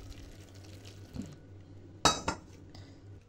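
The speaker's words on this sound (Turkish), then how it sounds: "Şimdi ben bu bulaşık tabletimin üzerine şöyle sıcak su ekleyeceğim" Cutlery clinks against a container as hot water is poured onto a dishwasher tablet and stirred with a fork, with two sharp metallic taps standing out near the end over a low background hum.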